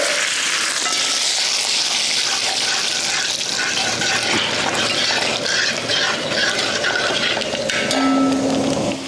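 Loud, continuous sizzling and crackling of mustard seeds, curry leaves and dried red chillies frying in hot oil, steady throughout with no talking.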